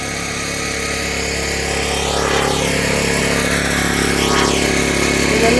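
A generator runs on a fishing boat in Oman, a loud, steady mechanical drone with a constant hum that holds unbroken throughout and rises slightly in level toward the end.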